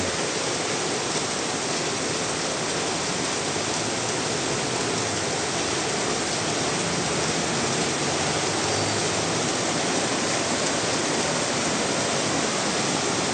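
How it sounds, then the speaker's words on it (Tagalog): Heavy rain pours down in a dense, steady roar that fills the whole clip, loud and close with no pauses. "Lakas ng ulan oh."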